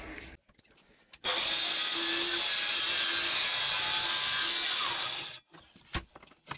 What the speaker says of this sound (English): on the miter saw, we mitered all the corners